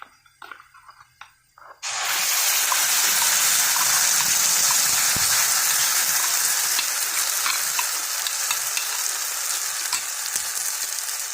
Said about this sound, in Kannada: ಸ್ವಲ್ಪ ಕೆಂಪಾದಮೇಲೆ ಇವಾಗ ನಾವು ರುಬ್ಬಿರುವಂಥ ಮಸಾಲೆನ ಇದಕ್ಕೆ ಹಾಕ್ಕೊಳ್ಳೋಣ.